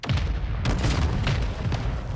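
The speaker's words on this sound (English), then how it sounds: "I do not like how long mortar strikes last." Mortar strike explosions in a first-person shooter video game produce dull, heavy booms layered into a continuous rumbling barrage, with a sharper blast partway through.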